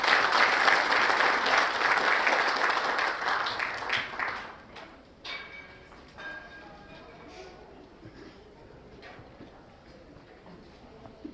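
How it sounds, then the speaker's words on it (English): An audience at a military heritage symposium gives a round of applause, loud for about four seconds, then thinning to scattered claps and fading into a quiet room. "We can, I believe, give them a good round of applause."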